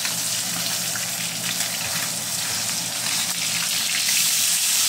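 Maya-maya fish frying in a pan of oil, a steady hiss and crackle of sizzling that holds at an even level throughout, close by with no talking.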